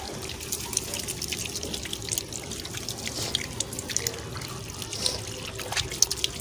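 Water from a hose splashes and trickles steadily onto a surface at a mini zoo, with faint irregular drips and spatters, soft and close with no voices.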